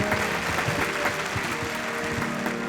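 A crowd at an award ceremony applauds its prize winners, steady mid-level clapping with a faint tonal hum underneath, sustained without a break.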